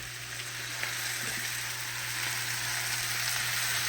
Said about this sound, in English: we're gonna go ahead and add our ground beef in there, back in there